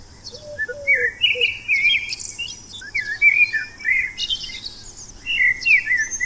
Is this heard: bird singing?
yes